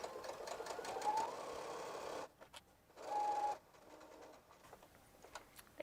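A sewing machine stitches across a zipper pouch in two short bursts of steady mechanical whirring, separated by a brief pause, with light ticks and clicks from handling around them; no one speaks.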